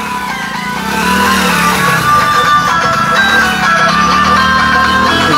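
Motorcycles and other vehicles in a village convoy rumble past nearby, a loud mix of engine drone and revving with a horn-like tonal layer, growing louder after the first second and staying busy.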